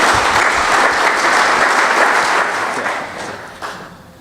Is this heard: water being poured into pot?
no